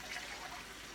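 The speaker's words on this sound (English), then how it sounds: "I'm going to add just a tad of water." Tap water splashes and trickles into an emptied can of beans in a kitchen, a soft, brief, continuous pour heard close and faint.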